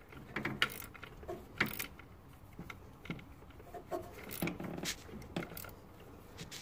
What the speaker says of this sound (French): Clé plate, cliquer.